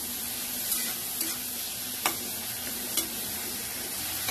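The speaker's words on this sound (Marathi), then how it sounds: "आता त्याला मस्तपैकी त्याला पण फ्राय करून घेणार" Prawns frying with turmeric in a pan, a steady bright sizzle with occasional sharp clicks and scrapes of stirring, close and continuous with no talk.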